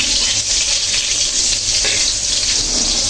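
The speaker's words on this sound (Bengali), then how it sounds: "তো বড়াগুলো ভেজে নিচ্ছে।" Brinjal fritters fry in hot oil with a dense, steady sizzling hiss throughout, loud and close, with no voices.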